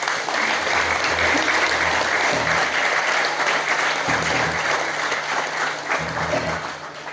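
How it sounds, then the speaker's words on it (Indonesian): A gathered audience at a religious talk breaks into sustained, loud applause that stays steady for several seconds, with a low hum or music underneath, then eases slightly at the end. "Tepuk tangan untuk kita semuanya hari ini."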